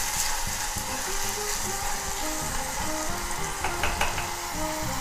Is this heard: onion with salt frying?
yes